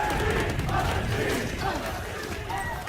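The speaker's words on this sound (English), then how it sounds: "Reverberations from the crowd." A large arena crowd at a Valorant esports match, VCT Americas Stage 1 between 100T and MIBR, roars in a continuous loud, reverberant swell of cheering and shouting that holds steady throughout.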